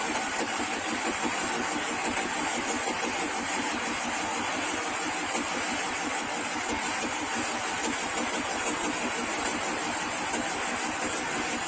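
The engine of a wooden boat runs in an enclosed engine room with a ventilation blower, giving a loud, constant mechanical drone with a rapid rhythmic chug that holds steady throughout.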